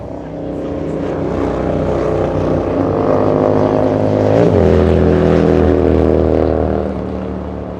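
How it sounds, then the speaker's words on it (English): A Spirit Airlines Airbus A320 taxis at LAX, its engines a loud, close, humming whine with layered steady tones that dip and shift pitch midway, then ease slightly toward the end. "Spirit Airlines 2446 flying in from San Jose del Cabo, 2 hours of flight time in A320 on taxiway Julia"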